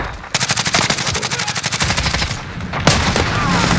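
Rapid automatic gunfire in the video game Modern Warfare, a loud sustained burst of fast, evenly spaced shots followed by a sharper single crack and continuing game noise.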